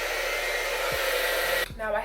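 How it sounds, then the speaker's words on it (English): Hair dryer blowing steadily and loudly on a honey blonde wig at close range, a continuous whooshing roar that cuts out briefly near the end before resuming. "lately I've been using this gem dryer"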